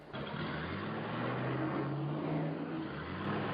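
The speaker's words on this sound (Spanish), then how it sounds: "cuando el coche entra en una recta, vuelve a acelerar" A car accelerates out of a curve onto a straight, its engine a steady, fairly loud drone whose tone climbs slightly over three and a half seconds.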